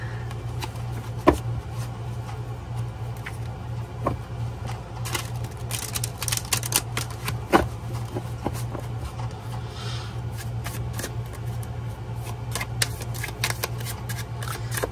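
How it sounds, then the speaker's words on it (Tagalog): A deck of cards being shuffled repeatedly, with crisp riffling clicks and flutters over a steady low electrical hum, close by and fairly quiet. "talagang binabalasan natin ang ating mga baraha"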